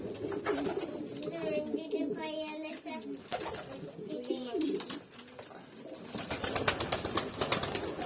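Pigeons coo repeatedly inside a loft where young pigeon chicks are kept, with soft rolling calls and some wing flapping close by, plus background shuffling and clatter and occasional voices.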